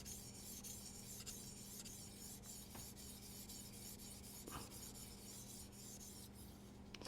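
Knife blade honed on a 600-grit sharpening stone, giving a steady, close rasping scrape in repeated strokes over a constant low hum, with no talking.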